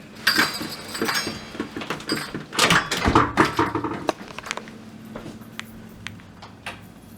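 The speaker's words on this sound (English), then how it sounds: "Now, if I close the door," A farmhouse front door swings shut in a fall-decorated entryway, with a cluster of clicks, rattles and a latch thud, followed by fainter scattered ticks in a quiet room.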